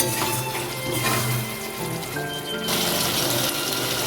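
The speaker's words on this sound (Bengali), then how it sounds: "মশলা থেকে তেল ছাড়তে শুরু করলে এরপর দিয়ে দিচ্ছি জল" Water is poured into a simmering rohu fish curry with potatoes and pointed gourd, a steady close gushing splash that runs the full few seconds with no talk.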